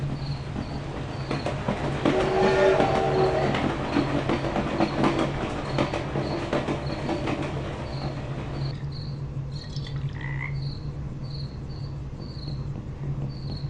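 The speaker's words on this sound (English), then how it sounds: "Train through town." A train rolls through town in the adventure video game Thimbleweed Park, a continuous rumbling clatter with a steady low hum, joined by repeated cricket-like chirps that carry on alone after the train noise drops away midway.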